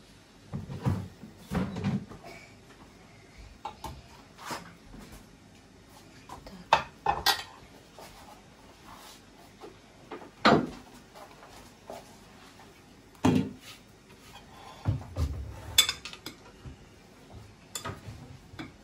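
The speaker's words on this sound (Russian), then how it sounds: "Да она посуду в чашках разбирала просто." Dishes and cups clink and clatter in scattered bursts, with cupboard knocks and pauses between, close by and fairly quiet.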